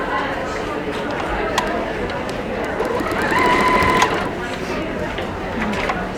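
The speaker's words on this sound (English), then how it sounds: "I'm just going to sew around that circumference." A domestic sewing machine stitches around the circumference of an infinity scarf, a steady rapid mechanical whir with ticking, close by and running under a voice talking.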